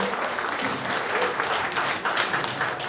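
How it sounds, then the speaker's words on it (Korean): Steady applause from a seated audience at the close of a political lecture in a hall, dense continuous clapping heard from within the crowd, moderately loud and unbroken, without speech. "오늘 마지막 강의를 열정적으로 해주신 김태년 의원님께 다시 한번 큰 박수 부탁드립니다"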